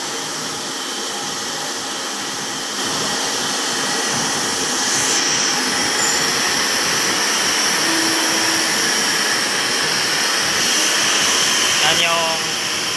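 Industrial chiller at a plastics plant, a continuous broadband whooshing roar that stays steady and fairly loud throughout, with a voice speaking over it.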